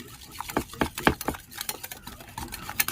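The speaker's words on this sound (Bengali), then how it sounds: "তেলটা দেওয়ার পরে আমি আবারও খুব ভালো করে মিশিয়ে নিচ্ছি।" Oil being mixed into mango cake batter, with quick irregular wet slaps and scraping strokes of a utensil against the bowl, close and moderately loud, with no speech.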